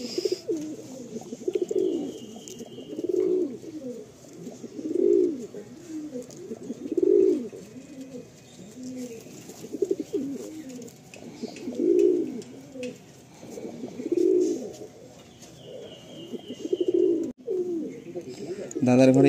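A Lalshira pigeon pair in a Kolkata loft of Andhra and Madrasi pigeons coos repeatedly up close, rolling low phrases coming every couple of seconds, with someone talking intermittently nearby.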